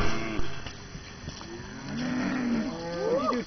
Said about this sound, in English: Here comes all the cows.